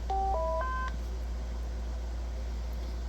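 A Baofeng DM-1701 DMR handheld radio powers on with a rapid ascending sequence of four short electronic beeps over a steady low hum, then only the hum and faint background noise remain.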